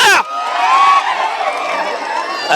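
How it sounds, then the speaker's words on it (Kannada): A comedy show audience claps, cheers and whoops loudly and close, with shouting voices blending into a sustained roar of excitement. "ಬರ್ಲಿ ಒಂದ್ಸರಿ ಜೋರ ಚಪ್ಪಾಳೆ ಹುಲಿಗಳು"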